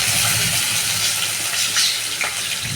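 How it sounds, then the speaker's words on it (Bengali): Onions sizzle and fry in hot oil in a pan with whole garam masala and a bay leaf. There is a steady, close crackling hiss and no one speaks. "পেঁয়াজটা এবার লাল লাল করে ভাজা করব।"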